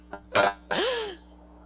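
A voice imitating a character's coughing during a tabletop Dungeons & Dragons session: a quick rasping hack followed by a longer, throaty cough with a falling vocal tone, close and fairly clear.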